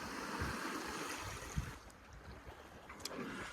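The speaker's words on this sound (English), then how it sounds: "we are now sailing dead downwind with the full main to port" A sailboat running dead downwind on open ocean with full main and genoa set, passage from Darwin to Ashmore Reef; steady broadband rush of wind and water along the hull, with occasional louder wave splashes and knocks.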